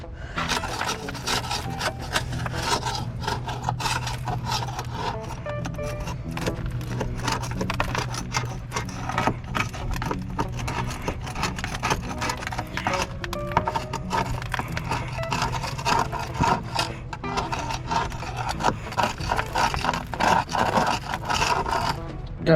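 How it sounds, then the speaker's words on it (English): Continuous close rasping and scratching as a scraper works barnacles and worms off a boat hull during yearly maintenance, with irregular crackles, a steady underlying hum and no speech. "Let's get to scraping."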